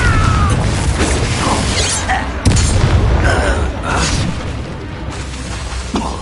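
A Confringo blasting spell bursts in Hogwarts Legacy combat against Ranrock's loyalists, a loud dense boom followed by crashing debris and a busy rumbling battle bed, with voices speaking over it.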